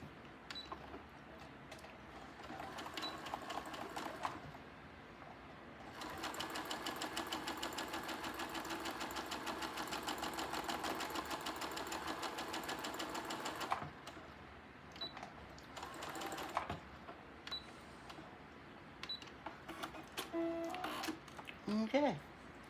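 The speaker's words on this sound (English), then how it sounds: "And then I'm just going to sew down this edge." Home sewing machine stitches down a quilted edge in one steady whirring run of about eight seconds, close but quiet, bracketed by shorter bursts and handling clicks.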